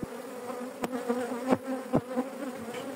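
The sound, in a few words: honeybees flying around a hive that has swarmed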